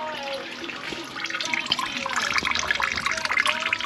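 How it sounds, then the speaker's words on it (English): Coolant from a BMW E92 335i with the N54 engine drains out of the radiator after a hose is pulled, a steady close splashing and trickling of liquid with scattered drips, continuous and growing slightly louder throughout. "And now we are draining coolant."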